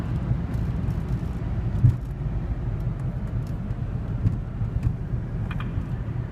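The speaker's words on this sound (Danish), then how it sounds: "Alle de der biler der." Cars pass on a road, heard as a steady, muffled low rumble of traffic that stays continuous and fairly faint, with no talking.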